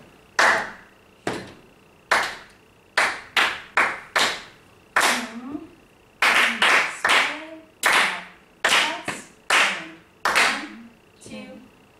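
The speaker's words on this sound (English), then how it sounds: "see if we can clap all of that together" A group claps a rhythm together in bursts of close, sharp, unison claps in an irregular pattern, with short pauses between phrases and voices speaking in between.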